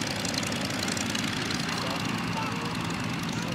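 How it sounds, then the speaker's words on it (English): Steady drone of a Sopwith Pup biplane's engine as the World War I fighter flies past at an airshow, a continuous rough roar that stays constant throughout with no talk over it. "And here comes our Sopwith Pup, Major Glenn at the controls."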